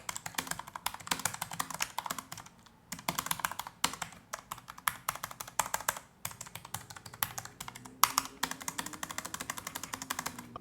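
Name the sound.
Cherry MX red low-profile keyboard typing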